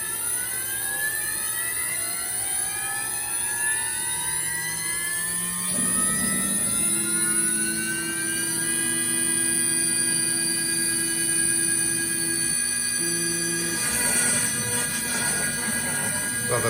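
CNC machine cutting a small picture stand from quarter-inch plywood: a loud, steady high-pitched spindle whine with shifting tones as the bit moves, plus rougher cutting noise partway through, continuous throughout.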